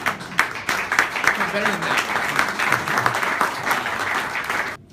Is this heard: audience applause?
yes